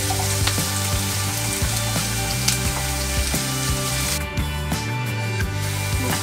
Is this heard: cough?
no